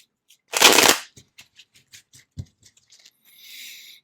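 A Rider-Waite tarot deck is shuffled by hand, one loud riffling burst followed by soft taps and light papery patter of cards close up, ending in a gentle brushing sound.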